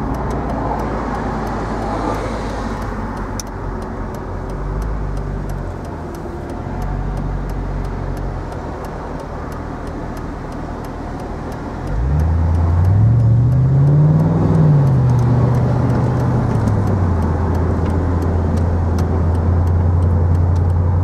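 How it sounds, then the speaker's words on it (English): A 2003 Mercedes SL55 AMG convertible driving in heavy traffic, heard from inside as a steady low engine drone and road rumble, the engine swelling louder and climbing in pitch partway through as the car accelerates before settling again. "Traffic's heavy today, but you get an idea how good the car is."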